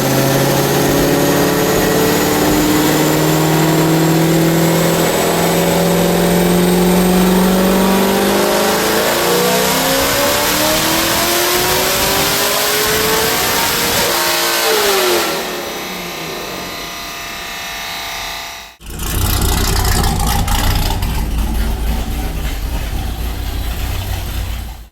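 A Corvette C6 Z06 on 93 pump gas makes a dyno pull, a loud, close engine roar climbing steadily in pitch for about fifteen seconds. It then drops off, and the engine flares briefly before settling into a rough idle.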